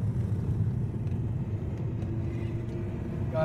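A car driving on a road gives a steady, low engine and road rumble from inside the vehicle, continuous and moderately loud, with no voices.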